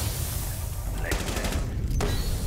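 Gunfire in a Rainbow Six Siege match, two sharp cracks about a second apart, one followed by a quick burst, over a constant game background.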